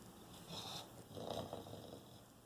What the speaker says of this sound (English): do you realize how loud you're snoring?